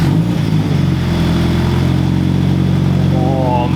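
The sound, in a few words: Toyota 86 GTS engine revving through X-Force catback exhaust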